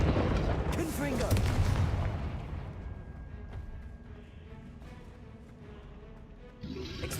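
A Confringo fire spell bursts with explosive booms and rumbling crackle in Hogwarts Legacy, loud at first and then fading into a lingering rumble, with speech mixed in.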